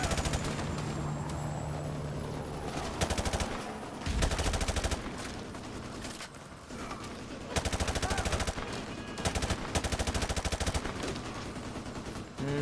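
Modern Warfare 2 Remastered video game gunfire: loud, repeated bursts of automatic fire in several clusters, broken by short lulls, over a constant rumbling drone, with no talking.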